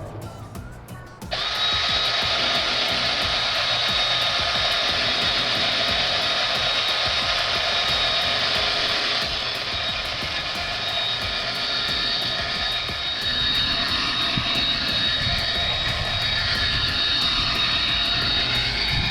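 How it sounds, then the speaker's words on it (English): Steady, loud whirring of a power tool sanding a yellowed car headlight with 1000 grit sandpaper, starting abruptly after a brief pause and running continuously with slight changes in pitch, no talking. "we're using 1000 grit sandpaper here just to get the rough material off"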